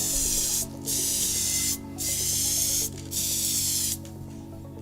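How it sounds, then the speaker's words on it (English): Three long bursts of PVC-compatible contact adhesive spray hiss close by along a membrane, each lasting about a second, separated by short pauses over a low mechanical hum. "we spray it along the whole length"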